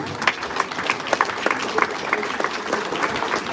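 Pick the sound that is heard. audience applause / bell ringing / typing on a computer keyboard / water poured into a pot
audience applause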